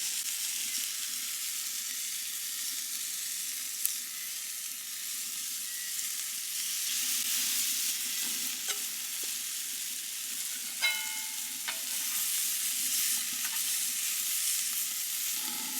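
Peri peri chicken sizzles steadily on an OZ PIG cooker outdoors, a continuous frying hiss with a few faint clicks and brief higher tones over it, no voices.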